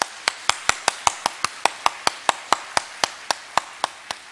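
A church congregation claps together in celebration during a Sunday service, producing a steady run of sharp, evenly spaced claps at about four per second over a light background hum.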